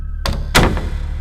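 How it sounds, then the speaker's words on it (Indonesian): In a horror-story setting, a door closes by itself: a brief creak and knock, then a heavy, close thud as it shuts, after which the sound fades into quiet. "pintu kelima menutup dengan sendirinya."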